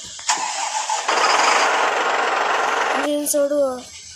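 Simulated Ashwamedha bus engine from a bus game mod cranks up and settles into a loud, steady, hissing roar for a few seconds, ending in a short tonal, wavering sound near the end.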